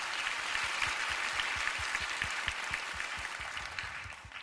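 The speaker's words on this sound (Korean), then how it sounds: "이 귀한 자리를 허락해 주신 아버지 하나님께 영광의 박수 올려드리면서 예배 시작하겠습니다." A congregation at a Korean-language worship service claps together in a steady, dense wash of applause, rhythmic beats showing through the crowd's clapping, fairly distant and gradually easing off.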